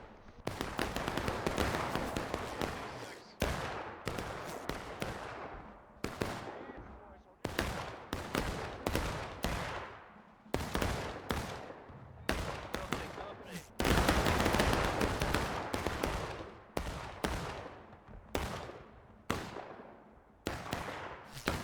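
Musket volleys crack out in the American Civil War game War of Rights, many loud sharp bursts of massed fire with ragged gaps between them and echoing tails, alongside occasional speech.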